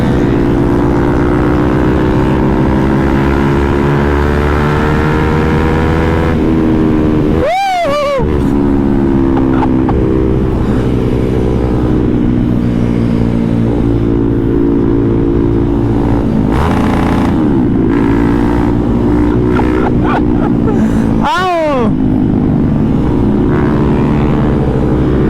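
Several motorcycles fitted with full-system aftermarket exhausts ride together in a group, giving a loud, continuous engine drone with two sharp rising revs that swoop up and fall away as bikes pass close by.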